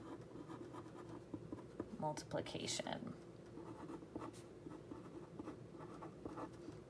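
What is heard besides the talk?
writing with a pen on paper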